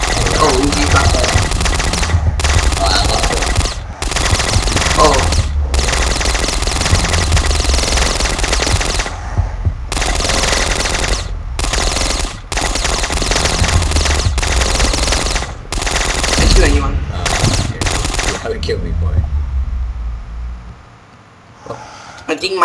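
Sustained rapid Uzi submachine-gun fire in the Boxhead zombie shooter game, long dense bursts with short breaks, loud and continuous, with players' voices over it before the shooting stops near the end.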